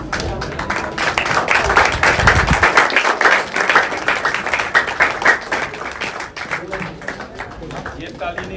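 A crowd claps steadily at an inter-college men's volleyball competition, dense sustained applause that swells and then thins, with a voice over a loudspeaker heard alongside.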